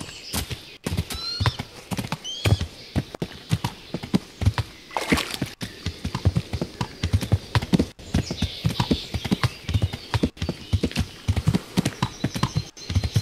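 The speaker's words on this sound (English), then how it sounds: "This horse is driving like crazy, dude." Rapid hoofbeats of a video game horse clip-clop in a steady galloping rhythm, close and loud, with occasional whinnies breaking through; from Kingdom Come: Deliverance.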